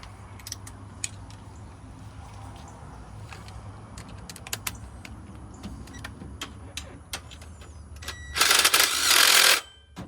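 An impact wrench fires a loud, dense burst of about a second near the end of a Toyota first-generation Tundra timing belt job. Before it come scattered sharp mechanical clicks and ticks from the garage.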